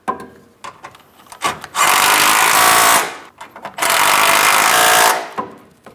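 A power tool tightens 10mm mounting bolts on the radiator and condenser fan assembly of a 2015-2025 Ford Transit 250, two loud sustained bursts of about a second each, separated by clanks and quieter handling noise.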